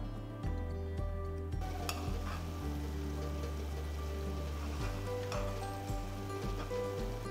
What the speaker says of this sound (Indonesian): Rebus hingga air berubah menjadi kecoklatan.